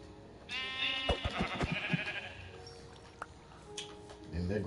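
A sheep in the Minecraft video game bleats loudly with a harmonic, wavering call, accompanied by clicking game sounds and a voice speaking nearby.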